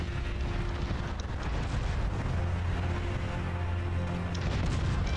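Cannon fire pounding buildings in the strategy game Cossacks: Back to War, heard as a steady, dense rumble of booms and battle noise with no pauses.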